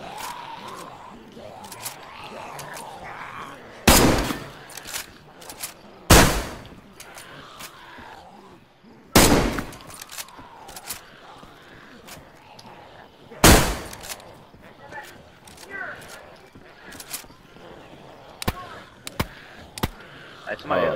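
Video game gunfire cracks out in several sharp, loud bursts scattered across the stretch, some single shots and some quick clusters, over a steady bed of in-game ambience and occasional talk.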